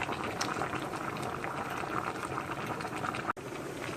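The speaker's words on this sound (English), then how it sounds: "The cabbage is boiling. It's boiling good." Cabbage boils in a pot, a dense, steady bubbling and churning of water heard up close and moderately quiet, with one brief abrupt dropout near the end and no voices.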